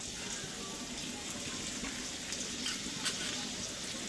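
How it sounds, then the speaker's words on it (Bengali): Tomatoes dropped into potatoes already frying in a pan, producing a continuous moderate sizzle with light stirring and watery crackle, no talk over it. "আগে আলুগুলো একটু ভেজে নেবেন তারপর এখন দিয়ে দেওয়া হচ্ছে টমেটোগুলা"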